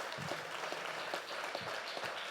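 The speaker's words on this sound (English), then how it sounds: "Can y'all give one more round of applause to everyone on this panel?" A seated audience gives a round of applause for a women's real estate panel, steady dense clapping from many hands that fills the room evenly throughout, with no voices over it.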